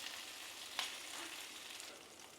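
Chicken pieces fry in hot oil late at night, giving a steady, dense hiss and crackle throughout, with one sharp click partway through.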